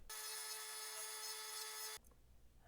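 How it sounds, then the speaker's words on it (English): A rotary tool fitted with a grinding burr grinds on a Hot Wheels Top Eliminator die-cast car, giving a loud, steady high-pitched whine for about two seconds before cutting off. Quieter room noise follows. "So I'm going to have to do it with a grinding burr."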